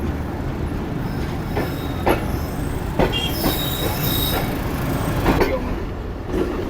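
The Sir Syed Express rolls into Faisalabad station toward the platform, with a loud continuous rumble of wagons, metallic wheel squeals and brake screeches rising over the steady rail noise, heard close by.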